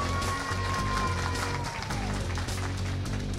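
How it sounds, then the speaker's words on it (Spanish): A crowd at a political candidacy presentation applauds in a steady, dense patter, with music or a low rhythmic thump running underneath and a tone sliding down through the middle. "Ranier, el aplauso."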